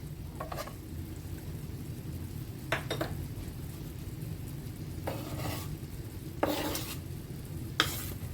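A clove of garlic sizzling in a pan over a flame, a low constant fry broken by several short scraping stirs of a utensil against the pan.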